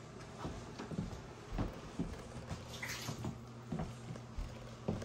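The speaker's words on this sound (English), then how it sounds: "I'm gonna go empty this water out of here" Water from a CASABREWS 3700GENSE espresso machine's tank being poured out into a sink, a faint steady splashing and trickling with a few soft knocks, heard close with no talking.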